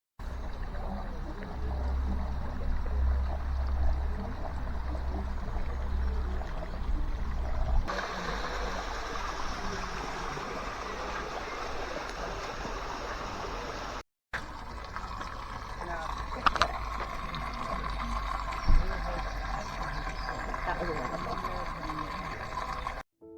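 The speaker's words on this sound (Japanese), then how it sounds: "何千年もの間絶えることなく湧き出ている聖なる水の音" Sacred spring water flowing steadily at the Glastonbury holy well in England, a continuous soft gurgling rush heard up close, constant throughout with a brief gap midway and a few small knocks.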